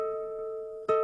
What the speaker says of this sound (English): The half step, and the tritone, which sounds like this